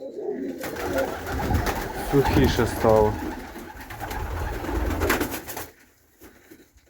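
Pigeons coo and flutter inside a warm, dry dovecote while recovering on antibiotics. Soft calls sound close, under a person speaking in a low conversational voice, and fade near the end.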